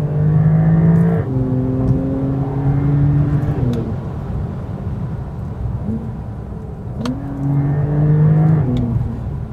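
A Porsche with a PDK dual-clutch gearbox accelerates hard, its engine note climbing steadily and then dropping with each quick gear change. The pattern repeats through several shifts, loud and close with no talking.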